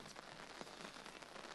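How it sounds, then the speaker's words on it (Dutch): Heavy rain pours down at a harness racing track in Emmeloord, Netherlands, as a steady, dense patter on surfaces, fairly soft and continuous, with no voices. "We kunnen genuldigen de winnaars in de stromende regen werkelijk hier op Emmeloord."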